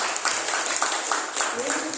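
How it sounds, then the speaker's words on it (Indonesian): Indoor audience applauding at a public information school event, dense steady clapping throughout with a voice speaking faintly over it. "Boleh tepuk tangan untuk kita semua."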